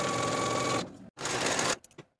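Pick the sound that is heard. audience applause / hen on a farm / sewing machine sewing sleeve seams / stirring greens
sewing machine sewing sleeve seams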